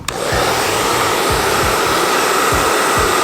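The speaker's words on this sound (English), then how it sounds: "Take your blow dryer." A handheld blow dryer runs steadily and loud at close range, heating the tape of tape-in hair extensions, a constant whooshing roar with no talk.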